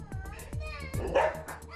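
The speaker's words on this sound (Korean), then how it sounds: "외부인만 등장했다 하면 사정없이 짖어대는 것은 물론 최대한 멀리 도망가기 일수." Labrador retriever barking at outsiders in a series of short, sharp barks and yips, close by and fairly quiet, with voices talking underneath.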